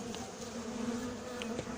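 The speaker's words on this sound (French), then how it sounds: "Les abeilles sortent un peu mais ne m'attaquent pas trop fort." Honey bees buzz around an open hive, a close, steady droning hum with individual bees passing by, heard alone.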